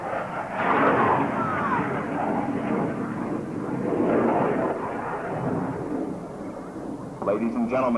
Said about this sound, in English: In order to demonstrate the tactical roll rate of these McDonald Douglas F-18 Hornets